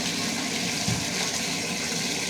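Running water rinsing motorcycle riding gear in a sink, a steady, close, even gush with no pauses and no voices.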